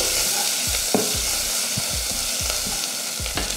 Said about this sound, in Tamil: சேர்த்துட்டு இதை நல்லா வதக்கி விட்டுறணும்.